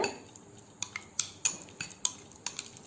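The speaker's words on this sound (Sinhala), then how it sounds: "හොඳට කලවම් කරන්න මේ දෙක." A metal spoon stirs yogurt mixed with finely ground gooseberry in a bowl, giving a series of sharp clinks against the rim at irregular intervals over a quiet background, with no talking.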